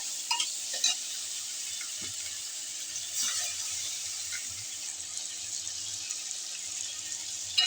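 Masala of tomato, green chili, onion, ginger and garlic paste with coriander and turmeric frying for fish curry, a faint steady sizzle with scattered light spoon scrapes.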